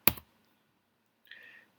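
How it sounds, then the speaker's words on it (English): A single sharp keyboard key click in Fusion 360 CAD software, followed after a pause by a faint short electronic tone; otherwise quiet. "I'm going to press F on my keyboard for fillet"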